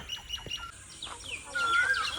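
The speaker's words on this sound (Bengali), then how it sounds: "আর পাখির আওয়াজ শুনুন" Several forest birds chirp and tweet in quick scattered calls at Dulali Eco Park, Ghoshpukur, North Bengal, with a longer rising whistle near the end, over faint background noise.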